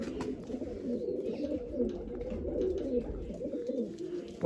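A crested pigeon coos in a low, continuous rolling murmur that runs steadily throughout, fairly close and moderately loud, with no talk.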